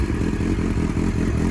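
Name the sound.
Yamaha Fazer 1000 motorcycle engine starting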